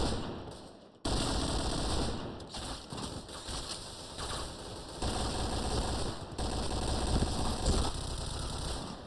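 Machine gun fire in the online shooter Point Blank, a continuous loud rattling stream of rapid shots that barely pauses, close and dominant with no talk over it.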